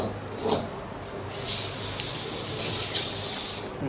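Tap water runs and splashes into a kitchen sink while a wok is being washed. After a brief spurt, the flow turns into a steady, close rushing gush, with no speech.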